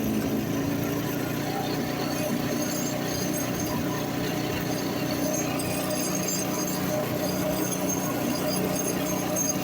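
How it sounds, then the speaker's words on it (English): A lawnmower tractor with a 5 horsepower Honda quick-start engine from a push mower runs steadily and close by in a big field, a constant low mechanical drone with no voices. "lawnmower with a 5 horsepower Honda quick start"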